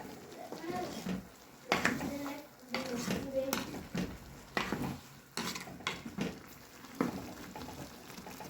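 A Sri Lankan fish curry of hen kekiri is stirred in a pot, with soft clinks and scrapes of a spoon against metal and a faint bubbling, heard under close talking.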